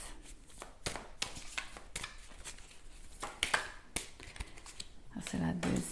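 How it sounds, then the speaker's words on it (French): Tarot cards being drawn from a deck make a run of quick papery flicks and soft slaps, close and fairly quiet, with a low voice briefly audible underneath. "Je vais tirer encore deux autres cartes."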